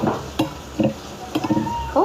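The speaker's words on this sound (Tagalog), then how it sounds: "Konting prito lang" Tuyo, dried fish, frying in a pan gives off a soft sizzle, broken by sharp clinks and scrapes of a utensil stirring against the pan, heard close and without speech.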